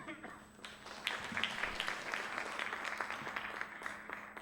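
A conference audience claps to welcome a Qualcomm Korea executive presenting on intellectual property business models, a moderate round of applause with scattered sharp claps and some voices underneath.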